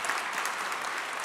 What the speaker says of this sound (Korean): 서로를 해서 축복의 박수하겠습니다